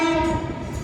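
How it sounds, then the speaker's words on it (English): A pair of British Rail Class 444 electric multiple units on a Bournemouth and Weymouth service passes close at Wimbledon, a loud steady rumble with a sustained tonal whine throughout, no talk. "This is a pair of 444s in the service to Bournemouth and Weymouth."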